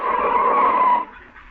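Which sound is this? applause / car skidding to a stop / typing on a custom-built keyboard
car skidding to a stop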